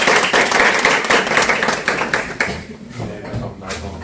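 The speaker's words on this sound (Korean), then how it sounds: "선생님 강의를 박수로 시작하겠습니다." An audience claps to open a lecture on Buddhism, dense applause for about two seconds that thins into scattered claps and dies away.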